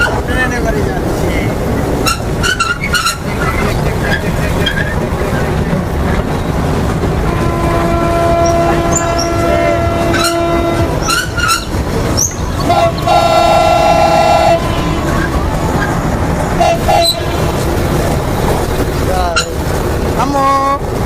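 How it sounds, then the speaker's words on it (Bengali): A passenger train rolls along with a constant rumbling clatter, loud and close, while horns toot repeatedly at intervals and people talk throughout. "ট্রেনে বাড়ি যাচ্ছি।"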